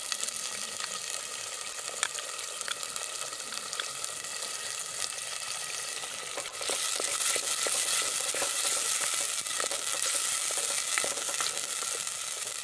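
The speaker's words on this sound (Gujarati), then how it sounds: "તો આપણી ડુંગળી અને ટમેટાની ગ્રેવી થોડીક સંતળાઈ જાય એટલે તેમાં મગજરીની ગ્રેવી ઉમેરી દઈશું." An onion-tomato gravy with cashew paste for kaju curry sizzles steadily in a pan on a stove, with scattered stirring clicks. The frying grows louder and denser about halfway through, and no one speaks.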